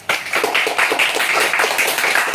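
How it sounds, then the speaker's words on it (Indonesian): Classroom of students clapping together in sustained applause, a dense burst of many hands that starts abruptly and continues steadily at close range. "Baik, berikan aplaus."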